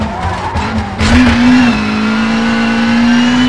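A rally car in the WRC 5 video game, driven by Robert Kubica on the Monte Carlo night stage, accelerates hard with a loud rising engine whine after a brief skid, holding a steady high revving drone.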